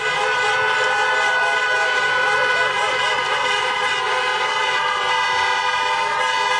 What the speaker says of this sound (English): Joe Biden gave his election night speech to a crowd of honking car horns there